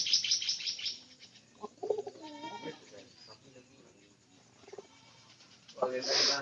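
Pigeons in a rain-dampened pigeon house give soft coos and scattered chirps close by, with a low human voice heard intermittently.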